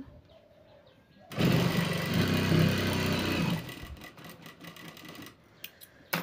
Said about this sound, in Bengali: এখানে আরেকটা সেলাই দিয়ে নেব।